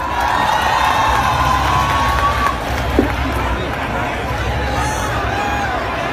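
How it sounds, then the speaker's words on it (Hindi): A crowd gathered to welcome actor Swara Bhaskar at a Jamia event cheers and claps in a continuous, fairly loud roar, with shouts and babble mixed through the noise. "उनका तालियों से स्वागत।"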